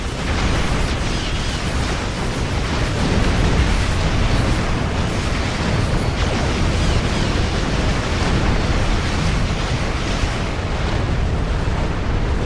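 A warp core explodes in the space combat game Star Trek Online, a loud, sustained roaring rumble of blast and debris that fills the whole stretch without letting up.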